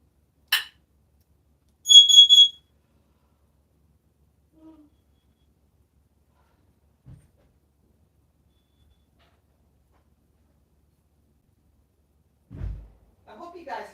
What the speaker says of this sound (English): my husband walked in and the door alarm went off